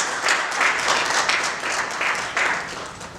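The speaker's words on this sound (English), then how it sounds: "Another round of applause for the President." A room of attendees at a Kitwe chamber of commerce breakfast meeting gives the chamber president a round of applause. The clapping is dense, continuous and fairly loud, and it fades slightly at the end.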